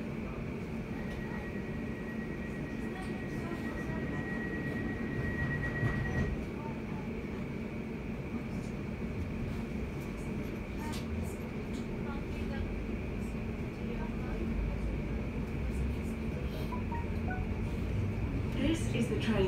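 A London Overground train at Woodgrange Park station rumbles steadily on the platform, a long low mechanical drone with a sustained tone, while an automated announcement voice speaks over it.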